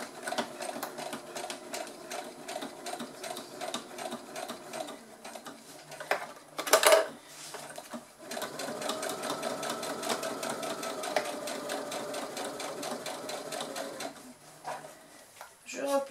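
A sewing machine stitches a tote bag, or large cabas shopping bag, running in long close bursts with short stops and a sharp thud midway, while someone talks quietly at times.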